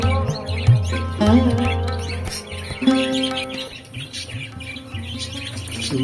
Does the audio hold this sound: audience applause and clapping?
no